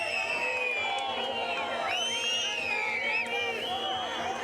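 A crowd at an outdoor statue unveiling ceremony in Shimla cheers and whoops for a politician, with overlapping shouts and festive voices filling the space at moderate, distant loudness.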